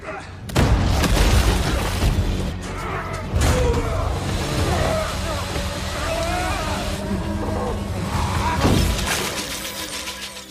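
Chaotic action-film gunfight with sharp bangs, crashes and rumbling impacts, loud and dense throughout, a few heavy hits standing out near the start and end.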